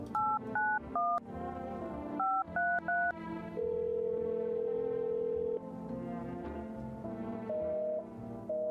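Telephone dialing tones from the video game No, I'm not a Human: a quick series of short keypad beeps, then a long held tone, a few more beeps and further sustained tones, clear and prominent with no talking.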